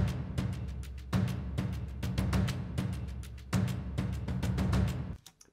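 A looping percussion sample of hand drums and shakers from Kashmir repeats in a steady, busy rhythm, close and fairly quiet, stopping abruptly at the end.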